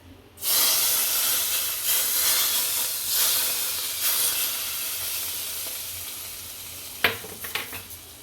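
Asafoetida and chili drop into hot oil for dal khichdi, setting off a sudden loud hissing sizzle that slowly fades, followed near the end by a few sharp clinks of a utensil.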